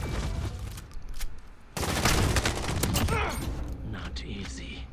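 Gunfire from a 725 shotgun in Call of Duty Modern Warfare, set up as a sniper-style build, booms in loud bursts over dense game noise, with a voice talking partway through.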